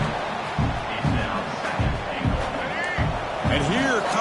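A loud, roaring stadium crowd rises in pulses of noise as the home fans push their defense during a red zone stand in college football, Oregon against UCLA, while a commentator talks over it.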